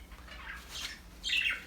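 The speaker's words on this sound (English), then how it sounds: "Please pardon my birds. They like to chime in with me on these recipes." Pet birds in a kitchen give a couple of short squawks and chirps, fairly faint and slightly distant, with no talking over them.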